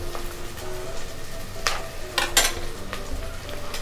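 Tomatoes frying in a pan with onions for a spicy crab rasam, a steady close sizzle with a few sharp stirring scrapes and clinks of utensils against the pan, no talking.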